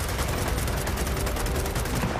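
Rapid bursts of automatic rifle fire in the Gears of War 4 prologue, a dense, loud, continuous rattle of shots with no voices over it.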